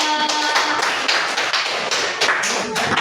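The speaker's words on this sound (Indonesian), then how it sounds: "Beri tepuk tangan untuk kelompok 3." A classroom of students claps for a presenting group, a dense patter of quick, uneven hand claps at close range that continues for a few seconds without talk.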